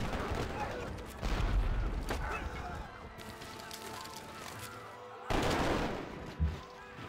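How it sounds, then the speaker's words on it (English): Rifle cannon fire attacking the city of Richmond in a Civilization V Civil War scenario, bursts of volley-like gunfire and booming impacts, moderately loud, with talk in between. "I want the rifle cannon there. Set up and attack Richmond."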